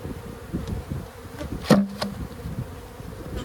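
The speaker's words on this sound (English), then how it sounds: "You got lumps of bees right here." Honey bees from an abandoned hive buzz in a steady, close drone around hive frames being worked, with a sharp knock or tap partway through.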